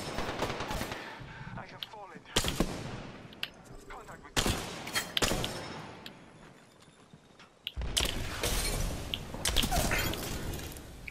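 Gunfire in the shooter video game Apex Legends, bursts of rapid shots and crashes arriving in several loud clusters separated by quieter gaps, with game effects filling the background.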